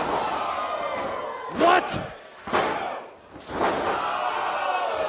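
A pro wrestler is driven onto the mat with a powerbomb, a heavy thud in the middle of crowd noise, followed by more impacts and roars. A commentator's voice is heard nearby.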